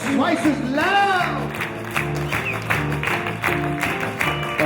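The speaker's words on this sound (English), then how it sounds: "Clap your hands twice as loud." Wedding guests clap along at a reception over loud dance music with a steady beat, the claps blending into the track rather than standing out clearly.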